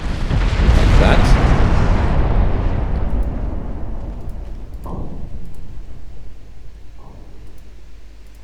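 Battlecruiser guns firing in the naval strategy game Ultimate Admiral Dreadnoughts, a loud heavy boom that rolls off slowly, followed by two fainter distant thuds.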